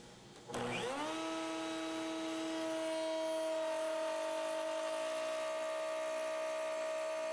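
A wood router used with a shop-made tenon jig starts up with a rising whine that settles into a steady, high-pitched hum, close and continuous, with no talk.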